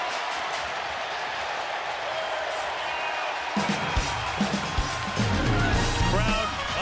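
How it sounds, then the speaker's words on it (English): Stadium crowd at a Rams at Browns NFL football game erupts into a loud, sustained roar after an interception, swelling midway with cheers and whoops and holding steady to the end, with no voices rising above it. "Crowd uproarious"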